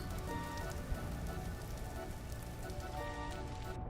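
Steady rainfall in the survival game Vintage Story, a soft, even hiss of drops without thunder, continuous and fairly faint with no voices.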